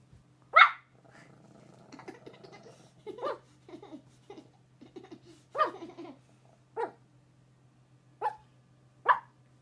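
A dog barks at its own reflection in a mirror in short, sharp bursts, about eight or nine spaced irregularly, with soft grumbling between them in a quiet room.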